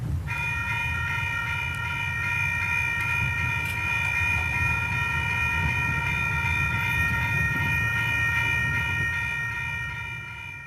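A train passes a road crossing, sounding a steady, sustained horn over a continuous low rumble of the rolling cars for about ten seconds.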